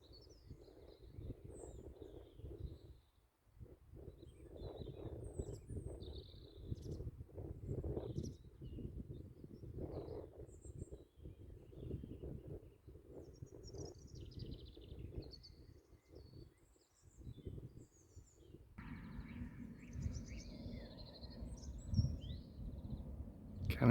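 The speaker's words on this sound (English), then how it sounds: "Lots of birds going on." Scattered bird chirps and calls sound from different distances by a pond in the New Forest, over a soft outdoor background with faint rustling, no voices.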